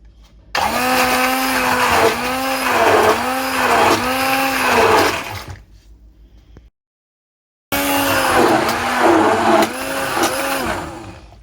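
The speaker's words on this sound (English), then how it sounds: "let cool down and whiz up with your hand blender." A hand blender blitzes celeriac soup in two long bursts, a loud whirring motor with rhythmic pitch dips as it churns, separated by a second of silence.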